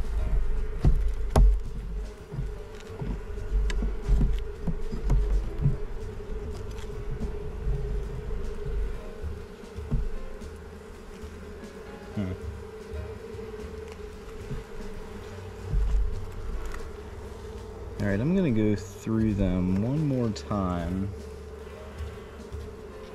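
Honey bees drone in a hive box throughout an early-season swarm inspection, a steady buzz under scattered knocks of frames and a voice that joins near the end.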